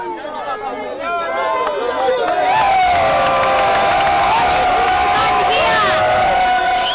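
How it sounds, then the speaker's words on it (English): Miners in the Congo cheering and shouting together, a loud crowd swelling from scattered chatter into sustained whoops and cries close by, with no pause. "The miners were cheering because word had gone round we'd come to help end their plight."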